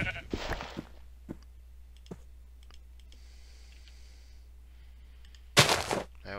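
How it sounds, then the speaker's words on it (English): A sheep in the video game Minecraft bleats twice, once at the start and again near the end, alongside scattered mouse or keyboard clicks over a low background hum. "Hello, sheep."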